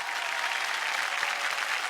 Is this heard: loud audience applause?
yes